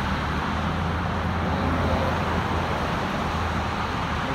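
Steady street traffic at the corner of 77th Avenue and 99th Street in Edmonton, Alberta, a continuous broadband roar of passing cars with a deep low rumble and no distinct pauses.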